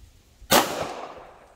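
A single 9mm pistol shot at an outdoor shooting range, a sudden loud crack close by followed by a long fading echo tail.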